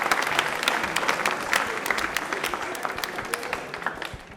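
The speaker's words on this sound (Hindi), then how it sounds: "तालियां को जोरदार हो जाए प्लीज।" A studio audience at a Rajasthani television quiz show breaks into loud, sustained applause, with dense clapping filling the whole stretch.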